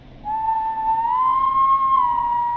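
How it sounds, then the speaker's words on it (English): One long, steady whistled tone with a slight rise in pitch, heard in the video game Killer Frequency. It sounds close and clear over a low background hum and lasts over two seconds. "Molly can't whistle."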